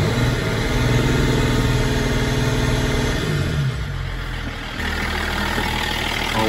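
Range Rover L322 TD6 diesel engine revved loudly and close, a steady mid-pitched roar that drops back toward idle partway through, with no voices.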